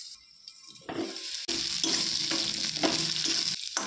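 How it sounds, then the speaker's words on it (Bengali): Cut potatoes sautéing in a pan with a lid, a loud, dense hissing sizzle that surges after a quiet start and holds steady with small bumps of movement, close and free of talk. "ঢাকা দিয়ে আমি আলুটাকে কষাবো"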